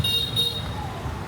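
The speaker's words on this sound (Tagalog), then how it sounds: "Grabe, ang daming bumubusina oh." Car horns toot over the rumble of busy street traffic in Hanoi at night, short honks from nearby vehicles layered on a constant roadway hum.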